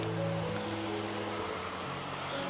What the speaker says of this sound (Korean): 물 흐르는 소리도 들리고요.